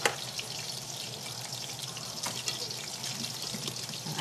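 Lumpia frying in a pan, a steady close crackling sizzle with soft bubbling that holds even throughout, with no talk.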